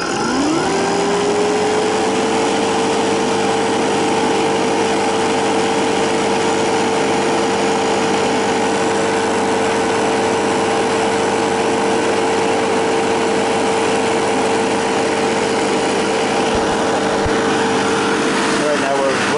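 A Fieldpiece MR45 refrigerant recovery machine starts up and runs, its motor spinning up into a steady, loud, even drone with a constant tonal whine that holds unchanged for nearly twenty seconds, with some talk faintly underneath.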